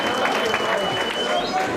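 Wrestling crowd at the Presidential Ballroom in Atlanta cheering and clapping for the challenger, a dense continuous roar of voices and applause throughout, with a commentator's voice mixed in.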